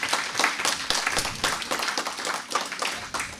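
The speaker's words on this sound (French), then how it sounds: "on peut les applaudir." Church congregation applauding performers after a sung piece, a dense, steady patter of many hands clapping together, close and moderately loud, with no speech over it.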